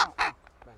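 A bird, spoken of as a bird of ill omen linked to witches, gives a few short harsh caws at Jumièges in Normandy, one loud call followed by fainter ones, heard at fairly close range.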